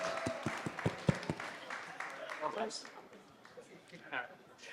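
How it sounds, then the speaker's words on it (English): An audience at a clean energy community event claps and applauds, scattered sharp claps at first, then a softer ongoing ripple of clapping mixed with crowd chatter and talk. "Clap it up one time, y'all."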